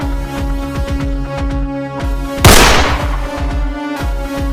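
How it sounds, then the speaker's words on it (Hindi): A single gunshot in a forest cracks out as one loud, sharp bang over a steady, rhythmic, music-like background. "अरे गोली चली"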